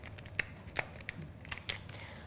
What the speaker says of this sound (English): I'm going to use scissors and I'm going to snip down the centre of the shell